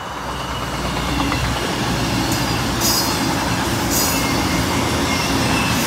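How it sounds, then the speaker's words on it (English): A CrossCountry passenger service from Glasgow Central to Plymouth rolls past St Mary's South Junction with a continuous rumble, clattering wheels and thin metallic squeals, loud and near. "cross-country service from Glasgow Central to Plymouth."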